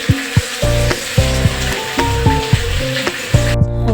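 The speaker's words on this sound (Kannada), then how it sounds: "ಒಂದು ತಲೆಯನ್ನು ಫ್ರೈ ಮಾಡ್ತಾ ಇದ್ದೀನಿ" A fish head fries in a pan on a stove, giving a loud, close sizzle with rhythmic pulsing crackles throughout.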